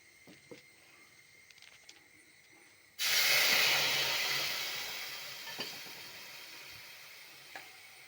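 A hot tempering of turmeric and mustard seeds poured into a dish bursts into a sudden loud hiss and sizzle that slowly fades over several seconds, after quiet kitchen ambience with a few small clicks.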